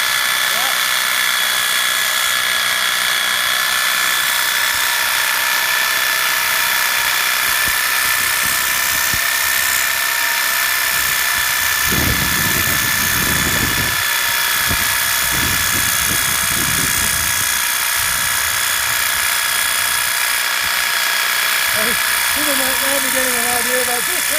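A saw cuts through a fossil Tyrannosaurus leg bone in a lab, giving a loud, continuous high-pitched whine and grinding roar that persists throughout, with brief lower rumbles midway.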